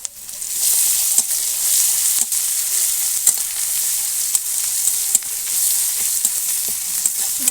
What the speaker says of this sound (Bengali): এখন আমি দিয়ে দেব আদা আর জিরে বাটা